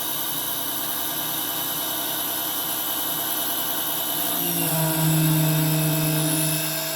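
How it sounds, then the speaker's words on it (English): A small electric pump extracting oil through the dipstick hole of a Fiat 500 Abarth engine gives a steady, close mechanical whine and hum, rising in pitch and loudness about two-thirds of the way through, with no voices. "Then you simply start the pump."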